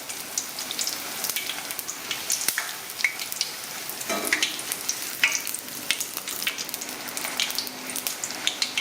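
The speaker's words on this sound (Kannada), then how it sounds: "ಈಗ ನೋಡ್ರಿ ಎಣ್ಣೆ ಕಾಯ್ದೈತಿ ನಾ ಈಗ ಲಟ್ಟಿಸ್ಕೊಂಡಿರೋ ಪುರಿ ಹಾಕ್ತೀನಿ" Rolled puri fry in hot oil for a sweet chavde dish, a soft continuous crackling sizzle with scattered pops and small bubbling bursts, fairly quiet and close.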